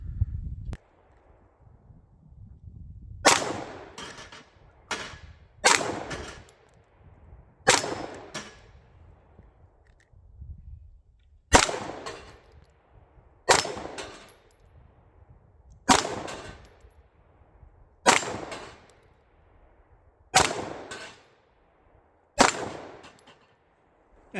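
A Smith & Wesson SD9 2.0 9mm pistol fires about ten single shots, fired standing freehand at a 50-yard target. Each crack is sharp and distinct with a short echo tail, spaced roughly two seconds apart over quiet outdoor background.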